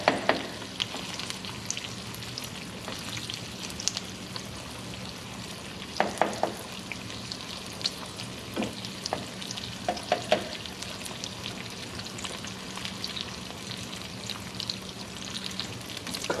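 An egg frying in a pan at breakfast, a soft continuous sizzle with scattered pops and faint scraping as the yolk is broken and dragged, fairly quiet and steady, no talk.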